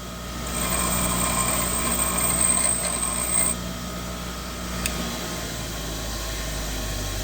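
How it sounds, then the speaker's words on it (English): A grinding wheel deburrs the edge of a hole in a small John Deere D governor part, with a steady whirring hum and a thin high-pitched grinding hiss for a few seconds before the contact eases off. "We're just going to hit that hole a little bit with the wheel. Just take off any sharp edge."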